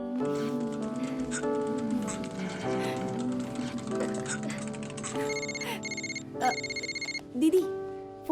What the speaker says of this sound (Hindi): दीदी फोन।